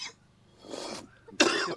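A man coughs outdoors in the wild, a short throat sound followed by a louder, harsher cough burst near the end, close and fairly loud against quiet surroundings.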